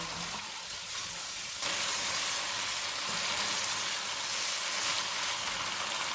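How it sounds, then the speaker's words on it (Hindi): Coriander, cumin and paprika powders fry in a pan for beef pasta, giving a steady, quiet sizzle that turns brighter and fuller partway through, with faint stirring underneath. "इनको 3 से 4 मिनट तक भूनेंगे"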